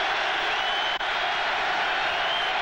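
Big crowd roaring in a football stadium during the 1991 AFC Championship, Denver vs Buffalo, a continuous dense wash of crowd noise at steady loudness, broken only by a momentary dropout.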